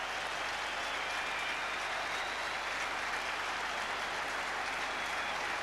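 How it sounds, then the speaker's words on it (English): Crowd at an Edgbaston cricket Test match, England versus Pakistan in 1982, giving a sustained, dense roar of applause and cheering, steady and loud throughout with no clear voices above it. "A great cheer goes out for Bob Taylor."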